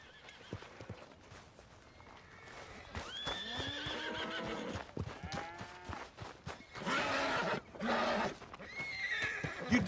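A horse in the video game Red Dead Redemption 2 lets out a loud, wavering whinny that runs on for a few seconds, followed by snorts and hoof clatter, with faint game noise and light movement sounds around it.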